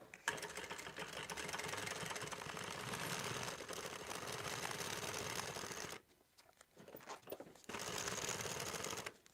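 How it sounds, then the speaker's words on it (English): Sewing machine stitching a fabric bag charm with a 1/4 inch seam, a fast steady whirring drone that stops for about a second and a half, then resumes, fairly quiet and close. "I'm going to stitch this using a 1/4 inch seam allowance"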